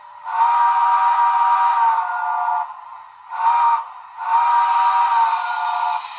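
A Broadway Limited Imports 2-8-2 Heavy Mikado model train steam whistle sounds in three blasts: a long one, a short one, then another long one, breathy and hissy with a steady tone.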